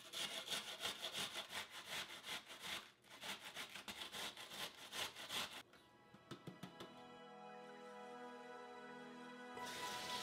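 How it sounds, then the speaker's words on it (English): An onion being grated for meatball mixture, steady rapid rasping strokes in quick succession, close and fairly loud, shifting midway to lighter scraping with a low hum underneath. "I'm gonna grate up this onion"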